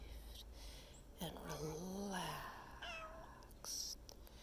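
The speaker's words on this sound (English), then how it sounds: "the cat who's meowing" A cat gives a few short meows and chirps close by, with a soft voice talking quietly around them.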